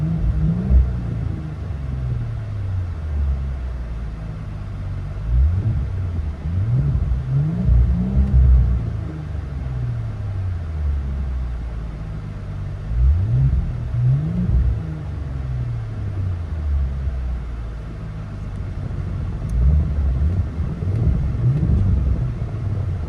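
Inside the cabin of a straight-piped 2023 Porsche Cayenne S with a 2.9L turbo V6, a deep, muffled engine drone hums steadily and swells in repeated revving surges.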